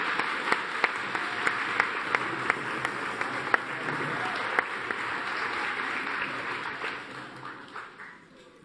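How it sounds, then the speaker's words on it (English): Children in a lecture audience applaud a costumed queen during a historical pageant, a busy, even rush of many small hands with a few crisp nearby claps, sustained for several seconds before fading away at the end. "Round of applause to your sovereign."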